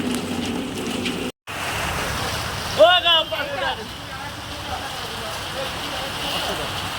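Rain falls steadily on an outdoor market flooded with water, a constant close hiss with a few brief voices rising partway through.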